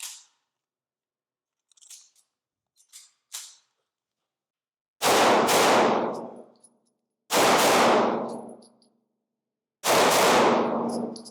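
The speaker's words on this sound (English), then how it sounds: "first rounds with the OPOS Venator." Three loud, sharp gunshots from an OPOS Venator firearm on a shooting range, spaced a couple of seconds apart, each with a ringing decay, preceded by faint small clicks and handling noises.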